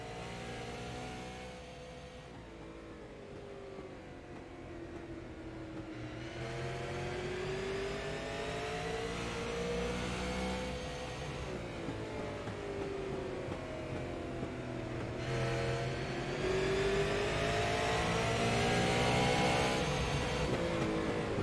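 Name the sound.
onboard race car engine at Irwindale Speedway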